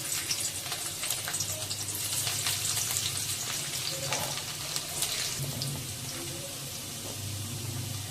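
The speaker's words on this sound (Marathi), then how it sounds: "इथे मी लसूण टाकून घेते." Garlic dropped into hot oil in a black-coated nonstick wok, frying with a steady, dense sizzle that holds close and fairly even throughout, with no talk over it.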